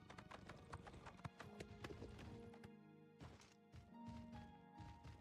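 Horse hooves clip-clop in a steady, close rhythm of repeated sharp knocks inside the Oblivion video game, with occasional louder thuds and brief whinny-like tones mixed in.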